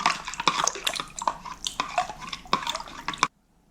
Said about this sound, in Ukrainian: Все гарненько перемішую, аби сіль розчинилася.